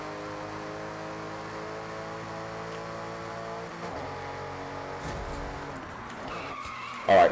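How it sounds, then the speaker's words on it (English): A BMW engine in the Forza Horizon video game holds a steady, harmonically rich rev near full RPM, then launches with tire squeal and a surge of noise, ending in a loud burst. "I'm gonna shut up so you guys can listen to this, because this engine sounds insane"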